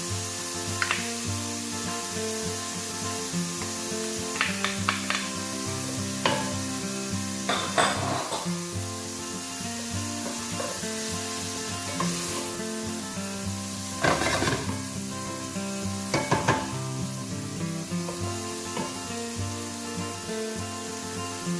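Onions and garlic cook in a pan for pea and pancetta risotto, a faint steady sizzle broken by occasional scraping stirs and clinks, close by with no talking.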